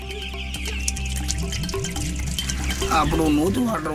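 Chickens cluck and chirp nearby among other farm noises, with a low hum and water sounds underneath, and brief chatter near the end.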